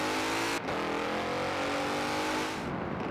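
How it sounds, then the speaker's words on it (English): A Mercedes-AMG GT 63 S V8 in Forza Horizon 4 drones steadily at high revs, with a brief dip as it shifts gears, loud and continuous with no talk. "the sound this thing makes. Yeah, it's a nice, big, fat V8 German engineering masterpiece"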